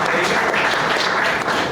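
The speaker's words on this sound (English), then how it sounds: "Round of applause." An audience at a company's third-anniversary event breaks into a steady, full round of applause, dense and fairly close, filling the moment without talk.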